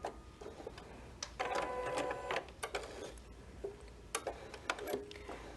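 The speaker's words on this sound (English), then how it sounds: "I'm going to tell my machine, okay, I'm ready to sew, and it's going to sew out another one of my designs." A computerized sewing machine stitches out a quilting design, with close mechanical chattering that starts, pauses and restarts in uneven bursts of rapid needle strokes, and no talk.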